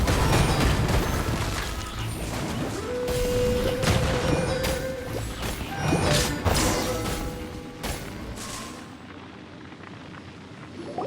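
Explosions and crashing impacts during combat in Genshin Impact, a dense barrage of booms and smashes with rising tonal effects, loud and continuous for about ten seconds before easing off.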